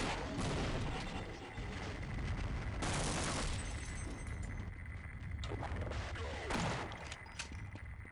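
Gunfire in the video game Half-Life, sustained bursts of shots and heavy thuds close by, loud and nearly constant, with a couple of sharper blasts standing out.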